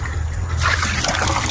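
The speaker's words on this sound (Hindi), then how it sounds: "पहले इसमें पानी डाल लो यार" Water pours and splashes steadily into a tubewell opening, a continuous gushing trickle close by with a low rumble underneath.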